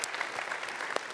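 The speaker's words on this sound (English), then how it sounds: "Can we clap for that?" An audience at a Christian conference event claps together in a short, steady patter of applause that fills the room, loud and continuous with no talk over it.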